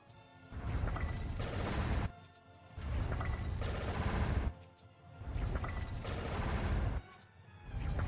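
Repeated bursts of bow shots and bomb explosions from Zelda: Tears of the Kingdom, fired in a fast five-arrow volley with bomb flowers during the final boss fight against Ganondorf, booming in three loud, dense barrages with short pauses between.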